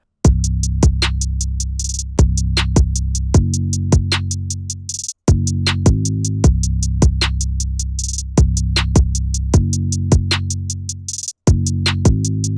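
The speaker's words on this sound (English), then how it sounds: "I used a drill 808 because it sounded accurate" Deep, booming drill 808 bass notes gliding in pitch, with rapid crisp hi-hat ticks rattling over them in a steady, looping rhythm, no voices.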